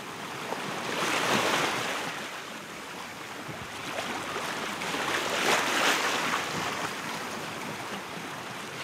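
Waves wash and surge around a sailing boat at sea under steady wind, a broad rushing swell that rises and falls, with no voices.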